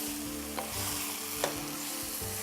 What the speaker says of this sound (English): 2 cups of chopped tomatoes. Low to medium flame. Let it all cook together.